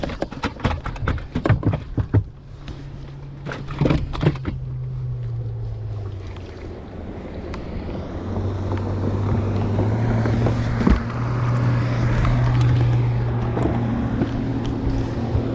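Small boat outboard motor on the California Delta: an early stretch of knocks and splashes gives way to a steady droning motor that holds for the rest of the time, with wind buffeting the microphone.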